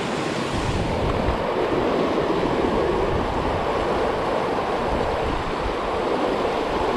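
Fast-flowing river water rushes steadily as a broad, constant roar close by, with no voices over it.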